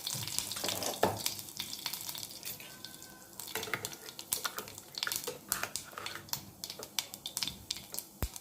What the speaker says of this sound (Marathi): आता थोडं राई टाकून घेते थोडं गोडलिंबची पत्ती टाकून घेते थोडं जिरं टाकून घेते